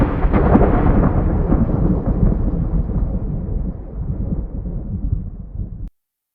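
Loud, rolling thunder from a storm at the foot of a mountain, a continuous deep rumble that slowly fades before stopping abruptly.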